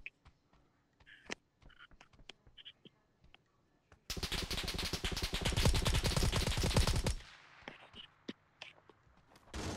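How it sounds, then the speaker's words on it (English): A long loud burst of automatic gunfire in PUBG New State lasts about three seconds, with sparse scattered shots and small game noises before and after it. "It was shooting at us."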